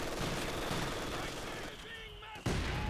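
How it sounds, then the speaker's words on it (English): Mortar fire in the Company of Heroes 2 battlefield: a dense barrage of loud gunfire and explosive thuds rolls continuously, briefly thins, then a sharp blast bursts back in near the end. "Mortar scatters a little bit wide."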